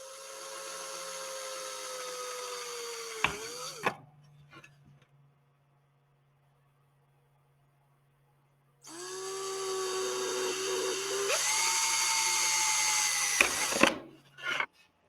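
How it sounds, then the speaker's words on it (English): A high-pitched power drill whines in two bursts, drilling 1/8 inch holes in a tail boom cover of a Talon A600 model helicopter, revving and dipping, with near silence between them and a faint low hum underneath. "Drill the holes in the cover first."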